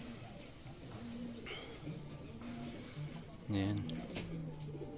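Low pigeons cooing repeatedly outdoors, with someone speaking briefly over them and steady background noise.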